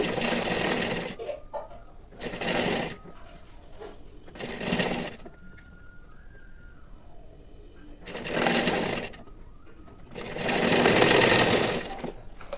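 A sewing machine stitches through three layers of fabric while attaching a cross belt, running in five loud bursts of rapid whirring with quiet pauses between them.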